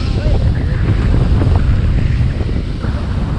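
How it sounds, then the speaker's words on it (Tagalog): Heavy waves surge and crash over loud, steady wind buffeting the microphone, a constant roar of open water with no pause. "Grabe yung alon."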